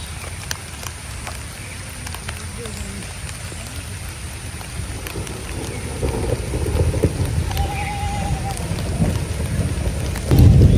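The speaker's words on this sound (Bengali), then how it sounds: "বাড়ি বৃষ্টি নামে পড়তেছে" Steady rain falls over a village garden on a monsoon afternoon, a continuous broadband patter that swells a little louder toward the end.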